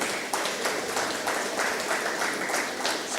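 An audience at a business conference for small and medium enterprises applauds steadily, a dense continuous patter of many hands clapping throughout, moderately loud with a slight echo.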